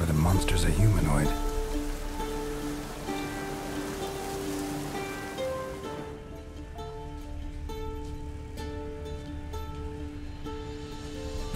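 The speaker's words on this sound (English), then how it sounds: "Looks like rain." Steady rain in The Witcher 3 video game patters across a surface, with a dense hiss that thins after a few seconds while soft tonal drones linger beneath.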